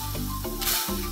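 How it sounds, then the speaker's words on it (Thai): Pork belly slices drop into a pot of boiling broth, making a brief burst of hissing, bubbling splash under steady background music. "เดือดแล้วนะคะหมู3ชั้นใส่ลงไปเลย"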